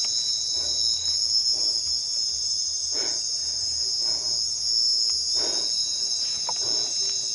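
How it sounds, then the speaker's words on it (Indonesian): Crickets chirping at night at a campsite, a loud steady high-pitched trill running continuously, with a few soft rustles beneath. "Jangkrik"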